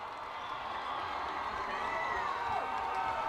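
At a high school football game, a distant crowd roars in a steady, diffuse wash that swells slightly near the end.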